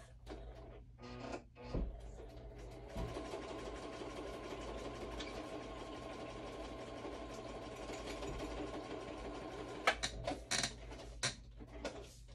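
A home sewing machine stitching steadily for several seconds with a continuous mechanical whir and hum, preceded and followed by brief clicks and handling sounds, heard alone without talk.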